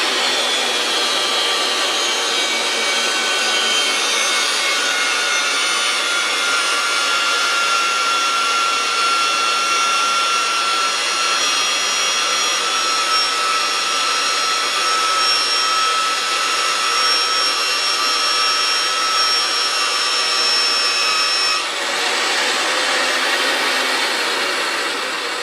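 A Ridgid 300 threading machine spins a die head to cut threads on oiled pipe, giving a steady, loud motorized whir and grinding hum that runs continuously, easing slightly near the end.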